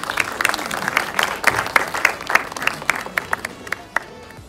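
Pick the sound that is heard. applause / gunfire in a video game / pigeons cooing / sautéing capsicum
applause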